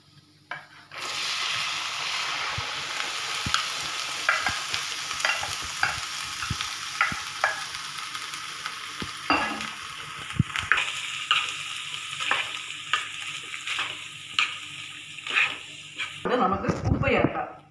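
Chickpeas sizzle and are stirred into masala in a pan, a continuous close frying hiss with scraping strokes of a spoon throughout, while a voice speaks over it.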